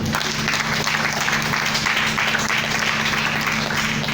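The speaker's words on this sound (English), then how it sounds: "clap for yourself" A church audience claps continuously and loudly in a dense, steady wash of applause that fills the whole stretch, with a low hum underneath.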